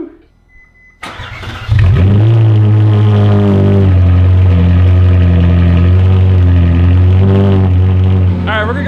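A Ferrari 458 fitted with a new S-Line exhaust fires up after a moment of near silence, then settles into a loud, steady, deep idle with slight rises in revs, close to the listener.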